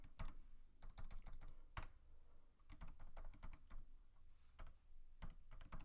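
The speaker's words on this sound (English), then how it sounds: "And excuse my typing," Someone types on a computer keyboard nearby, producing clusters of quick, light key clicks with short uneven pauses between bursts.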